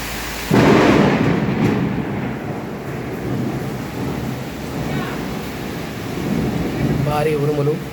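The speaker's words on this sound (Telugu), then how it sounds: "భారీ ఉరుములు నడుమ భారీ వర్షం కురుస్తున్న రోడ్లన్నీ జలమయమైన వేళ" Heavy rain pours steadily on flooded roads in Hyderabad, with deep rumbling thunder rolling loud and close through the downpour; a brief burst of tonal noise rises near the end.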